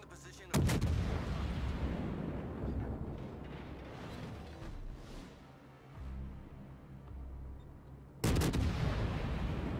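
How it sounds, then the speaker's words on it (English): Naval artillery from a warship in World of Warships booms as shells are lobbed over a hill toward the battleship Missouri. Loud blasts open and close the stretch, with a sustained rumbling roar between them. "he's going to be able to start just lobbing shells over this hill at the Missouri."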